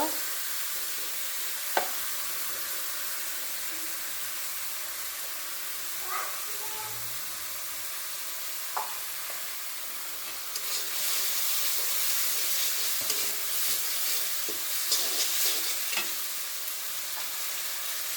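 Ginger and whole spices sizzling in hot oil in a pan for Bangladeshi beef curry, a steady hiss with occasional stirring clinks, swelling louder and brighter partway through as more goes in.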